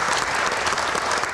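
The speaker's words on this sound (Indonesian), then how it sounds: "Tepuk tangan untuk rekan-rekan mahasiswa yang hadir di studio." A studio audience applauds students at an Indonesian election-themed Q&A broadcast, with dense, steady clapping that holds at an even level throughout, with no voices over it.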